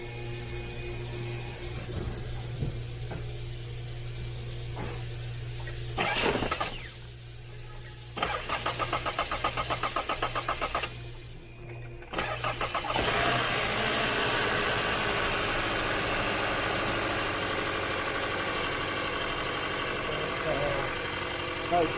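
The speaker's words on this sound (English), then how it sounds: "Now I'm gonna start the car." A 2021 Hyundai Santa Fe with an unplugged ignition coil cranks in a couple of bursts, then fires up and settles into a rough, shaking idle, loud and close, with a voice speaking briefly over it.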